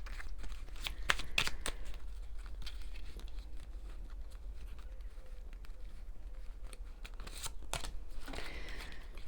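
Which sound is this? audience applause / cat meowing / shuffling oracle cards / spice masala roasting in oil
shuffling oracle cards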